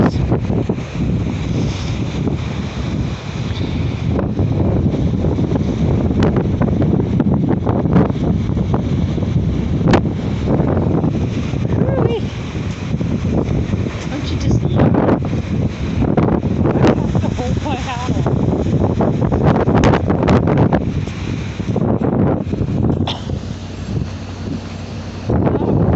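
Strong wind buffets the microphone on a waterfront walk at Port Townsend, a constant loud rumbling roar with gusty surges for the whole stretch, while a person talks intermittently underneath.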